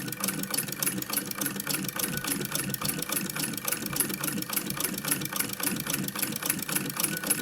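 A Singer sewing machine with a buttonhole attachment stitches on its own, a fast, steady mechanical clatter with even rhythmic needle strokes, close and continuous, with no talking over it.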